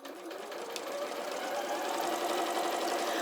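A sewing machine stitches around the edge of a bag with thick wadding, giving a fast, steady mechanical whirring rattle close by and continuous throughout.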